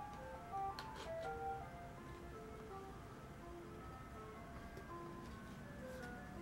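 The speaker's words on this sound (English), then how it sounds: "There's an ice cream truck really driving by right now." An ice cream truck drives past outside, its faint tinkling jingle melody repeating at a distance under a steady low background hum.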